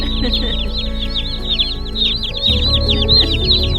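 Many baby chicks peep together in a dense, continuous chorus of high chirps, close by, with faint low rustling beneath and a brief shift in background noise partway through.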